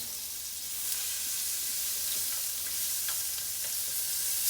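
Onions and chicken stir-frying in a very hot wok, a steady close sizzle and hiss with occasional faint scrapes and stirring clicks, no talk.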